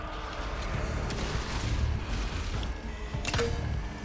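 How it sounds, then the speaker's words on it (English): Explosions in the video game Zombie Army 4 send out deep, booming rumbles that roll on for several seconds. A sharper blast near the end sits over dense game noise. "Explosion imminent."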